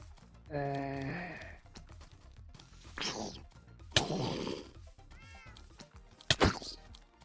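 A Minecraft cat meows in a few short, distinct calls scattered among game noises, with thuds and knocks between them.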